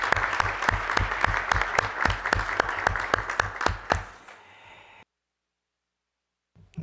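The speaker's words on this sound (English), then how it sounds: "that certainly deserves an applause from all of us" Applause from delegates in an assembly hall, a steady round of clapping for about four seconds that thins out and fades to silence, with a small sound at the very end.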